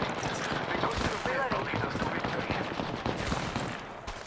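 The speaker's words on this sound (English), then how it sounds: "We are shot at." Dense gunfire in the battle royale game Apex Legends, rapid overlapping shots and bursts in a chaotic firefight with voices talking over the noise throughout.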